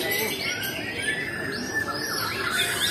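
Competition songbirds sing at a bird singing contest. Many birds chirp and warble at once in a dense, continuous chorus that fills the air, with a little voice faintly in the background.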